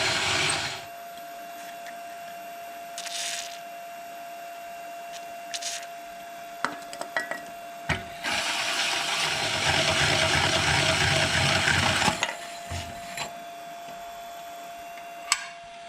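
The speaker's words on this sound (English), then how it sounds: "use lots of lubricant on when you're cutting larger holes like that" Hole saw boring a large hole, generously lubricated to stay cool, during fabrication of engine and transmission mounts. Short intermittent grinding bursts build to a sustained, louder cutting stretch midway, then stop and start again over a faint steady hum.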